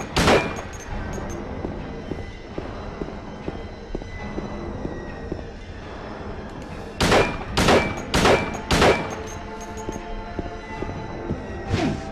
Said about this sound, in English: Might want to stick to the handgun, actually. If only because I can get more shots off.